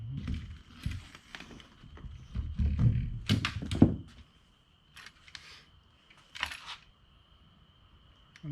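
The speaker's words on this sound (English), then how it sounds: "Once you get them in, you want to reload the gun" A speargun being reloaded up close: a run of solid mechanical thunks, clicks and clacks, with a few sharper knocks, then short quiet gaps between the later clunks.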